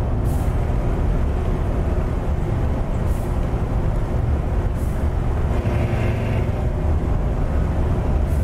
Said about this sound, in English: Love the sound of those air brakes.